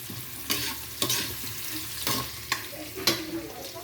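Garlic, onion and ginger sautéing in a pan for adobo: a steady close sizzle broken by a few sharp bursts as the pan is stirred.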